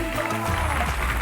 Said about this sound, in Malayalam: അപ്പോ നന്നായിട്ട് കൈയടിച്ചു കൊടുക്കണം